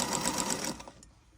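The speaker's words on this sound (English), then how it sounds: "we're going to go ahead and just sew this" A sewing machine runs steadily while stitching fabric scraps together, a close, continuous mechanical whir that slows and stops after about a second.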